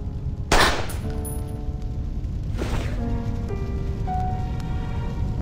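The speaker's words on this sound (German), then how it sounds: "Und dann hörte ich einen Schuss." Gunshots in the video game Reverse: 1999: two sharp, loud blasts about two seconds apart, each followed by a brief trailing decay, over a steady sustained musical background.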